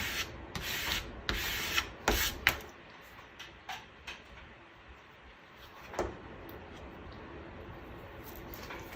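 A squeegee burnishes a Cricut vinyl design, giving close, repeated rubbing and scraping strokes in uneven bursts that soften toward the end.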